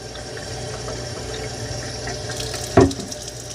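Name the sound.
filling floor cleaner water tank with tap water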